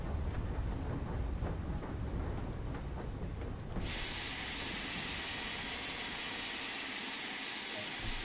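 A steam locomotive in the simulator game Train Sim World 2 rolls to a stop with low rumbling and faint rhythmic clanks, then a loud, sustained hiss of released steam takes over.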